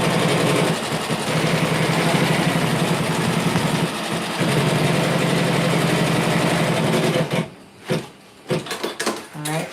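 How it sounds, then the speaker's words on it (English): A sewing machine runs loud and steady while sewing a placement stitch on a lace lantern project, then halts, followed by a few short bursts of handling noise and brief stop-start sounds. "the first thing I need to do is sew a placement stitch"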